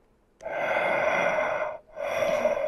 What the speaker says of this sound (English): Mikey, Michael Myers. Mikey breathing on your shoulder.